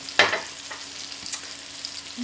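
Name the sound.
chicken frying in a pan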